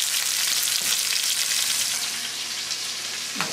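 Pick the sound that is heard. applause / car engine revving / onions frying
onions frying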